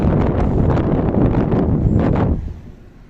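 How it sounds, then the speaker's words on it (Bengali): Strong wind gusting through the gap of a hotel window in Madina, a loud, continuous roaring rush across the whole clip that drops away sharply near the end, with no voices. "বাইরে প্রচুর বাতাস, এই যে এই যে এই ফাঁক দিয়ে বাতাস আসতেছে"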